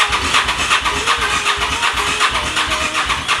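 A Honda VTR1000F motorcycle engine runs loud and close in a steady, throbbing idle with an even pulsing rhythm and no talk over it.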